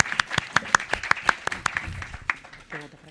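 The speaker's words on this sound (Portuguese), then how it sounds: "Vamos então nossas palmas aí para a Badia" Scattered claps from a small audience at a talk event featuring personal life stories, a dozen or so sharp, uneven hand claps over about three seconds, ending as a voice begins speaking.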